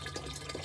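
Rainwater pours from a rain barrel into a jug, a brief steady trickling and filling sound, faint and close, with no talking.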